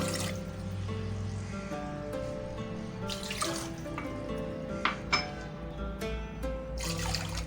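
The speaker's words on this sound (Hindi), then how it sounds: "तो सबसे पहले पैन में हम डालेंगे 4 कप पानी।" Water runs steadily from a tap into a cooking pan, a continuous splashing pour with a few small clinks near the end.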